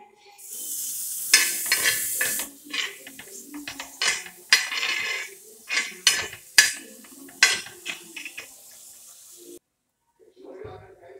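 Ingredients roast in butter in a pan while being stirred, giving a soft sizzle broken by repeated scraping and clattering strokes of a spoon, moderately close, then a short pause near the end.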